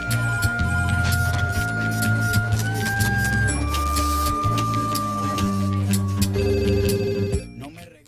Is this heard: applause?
no